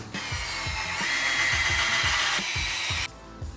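A power drill drives 2.5-inch screws into wood, a loud sustained motor whine over a rhythmic low grinding pulse, stopping shortly before the end.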